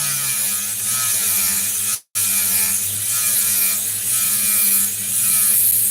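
A saw grinds steadily through opal stone, a loud close continuous rasp that breaks off for a moment near the middle before resuming at the same level.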